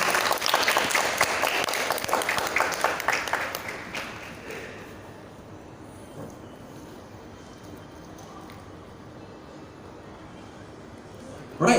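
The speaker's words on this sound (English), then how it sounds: "Please give them a round of applause" Audience applause at a debate event on gender, race and religion in Malaysian media, loud and dense for about four seconds as speakers take their seats, then tailing off into a quiet room murmur.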